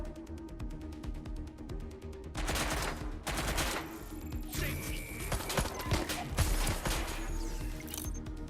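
Rapid automatic gunfire bursts and single shots in the video game Watch Dogs Legion, loud and close, starting light then building into dense sustained volleys with clatter and impacts.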